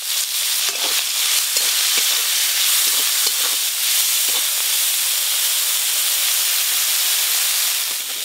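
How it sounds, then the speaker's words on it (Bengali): Small shrimp frying in oil with salt and turmeric, producing a steady, close hissing sizzle punctuated by brief crackles and stirring sounds, with no talk. "পালং শাকের ঘন্টর জন্য এবার চিংড়ি মাছগুলো ভেজে নেব।"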